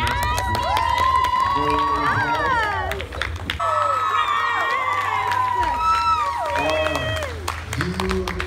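A lively convention crowd at GlitchCon 2019 cheers, whoops and applauds steadily throughout, with excited shouts and voices riding over sustained clapping at close range.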